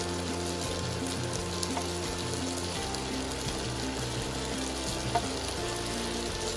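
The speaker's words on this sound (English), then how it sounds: "next thing that we're going to put in is our beautiful rice." Cooked rice for Southwest-style fried rice sizzles and crackles steadily in a hot pan, a dense, close frying hiss with faint stirring scrapes and no voices over it.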